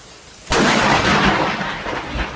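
Thunder from lightning striking a tree outdoors during a storm bursts in suddenly after a quiet moment, then rolls on as a loud, broad, sustained rumble without any voices.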